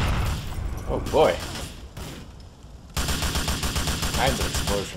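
Explosions and gunfire rattle in Grand Theft Auto IV street combat, with rapid bursts and a booming blast under someone talking over the game action.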